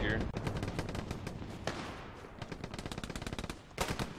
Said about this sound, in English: Scary seeing all these people fire their shots off.